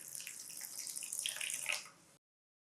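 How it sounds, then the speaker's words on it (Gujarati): Flattened rice (poha) being rinsed with water in a bowl, a steady close splashing and trickling wash for about two seconds before it cuts off abruptly to silence. "હવે આપણે અડધી વાટકી પૌવા લેવાના છે અને પૌવાને 2 વાર પાણીથી સરસ રીતે ધોઈ લઈશું."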